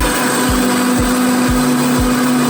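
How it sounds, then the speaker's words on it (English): A blender mixes lemon juice, bourbon and vinegar for a turkey brine, its motor roaring loud and steady with a rhythmic pulse about every half second. "We're gonna mix it all together in a blender."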